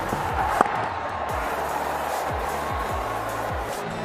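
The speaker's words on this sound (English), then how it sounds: "It's a big Sunday crowd here today." A big Sunday crowd in a cricket ground holding about 45,000 during an India versus England T20 final, a loud continuous roar of cheering with a sharp bang near the start and shouts rising over it.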